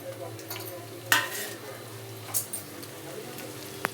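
Garlic and green chilli with chilli powder, salt and turmeric sautéing in a pan for sundakkai paruppu sambar, giving a low steady sizzle with a few sharp scrapes of a spoon stirring, close and moderately loud.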